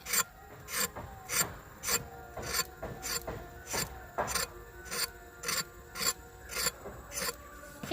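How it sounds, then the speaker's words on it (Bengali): Pointed gourd (potol) being scraped by hand with a knife, its skin shaved off in steady rasping strokes, about two per second, close and clear with no talking. "আমি ছাল তুলছি না, এমনি ছুলেই নিচ্ছি।"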